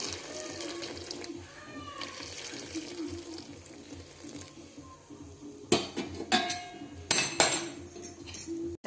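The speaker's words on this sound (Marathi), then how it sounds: "आता गरम पाणी टाकले आहे गरम पाणी टाकलं मी" Hot water pours and splashes into a pot in bursts, with metallic clinks of cookware between the pours.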